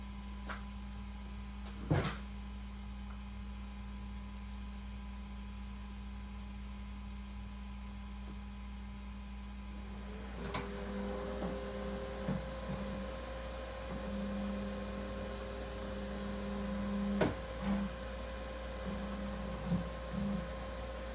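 An Elegoo Centauri Carbon 3D printer starts a print under a steady low electrical hum, with a sharp clunk early on, then stepper motor tones and a few clicks and mechanical movements, quiet and close, with no talk.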